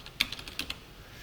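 Computer keyboard typing code: a short run of a handful of light, crisp keystrokes in an uneven rhythm, close and fairly quiet, with no voices.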